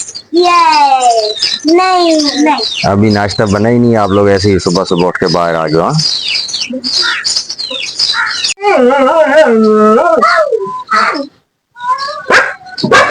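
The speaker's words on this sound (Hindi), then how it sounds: "तभी ये भौंक रहा है।" A farm dog barks repeatedly in yips and yelps on a rooftop in the morning, with birds chirping around it. The barking is loud and close, broken up by someone talking over it.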